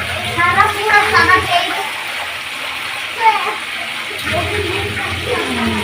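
Hot water splashes and pours into a simmering curry of ridge gourd, potato and fish, with bursts of splashing at the start and again near the end while a person talks over it.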